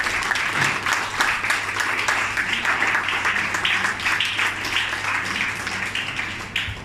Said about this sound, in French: applaudir le Seigneur bien fort, frère